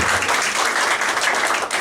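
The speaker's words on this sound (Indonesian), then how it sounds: "Yang setuju tepuk tangan dulu yang meriah begitu." A church congregation in Surabaya breaks into lively applause during a sermon: a dense wash of many clapping hands, loud and continuous for the whole short stretch.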